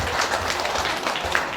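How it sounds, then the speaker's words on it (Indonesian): Audience applause at an integrity-zone outreach meeting for neighbourhood and ward heads, a steady mid-level patter of many hands that holds evenly through the short stretch, with no voices over it. "Tepuk tangan untuk semua."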